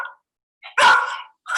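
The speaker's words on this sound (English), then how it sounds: "Hopefully your dog won't be in the background barking." A dog barks indoors, heard as a few sharp, close barks in a quick irregular sequence separated by near silence.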